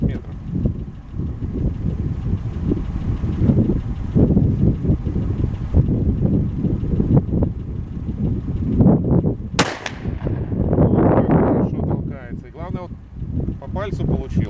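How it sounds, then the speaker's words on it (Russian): Rifle shots from a Baikal MP-18MN firing handloaded .223 Rem at 50 m targets ring out as sharp loud cracks amid near constant talk, with one especially strong report near the middle. "мы решили пострелять из него самокрутными патронами"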